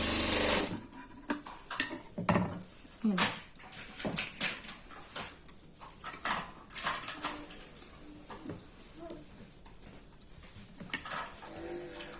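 A sewing machine stitches the waist of a garment, running in uneven bursts of rapid mechanical whirring and clatter, with a dog whimpering faintly nearby.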